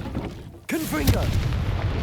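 A booming Confringo fire-blast spell explodes in Hogwarts Legacy, a deep, rumbling burst that runs through the whole moment while a voice speaks over it midway.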